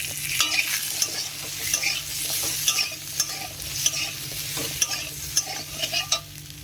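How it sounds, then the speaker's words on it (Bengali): Potatoes and vegetable stalks fry with a little turmeric powder in a pan for a parshe fish curry; a continuous sizzle under repeated, rhythmic scraping stirs from a spatula, close and clear. "অল্প একটু হলুদ গুঁড়ো দিয়ে ভেজে নেবো আলুগুলো ডাঁটাগুলো দিয়ে ওই আলুর সাথে ভেজে নেবো"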